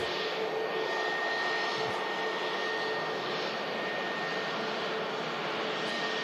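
Jet airliner engine roar at Manchester Airport, a steady, continuous broadband rumble heard from a distance, holding level throughout with no voices over it.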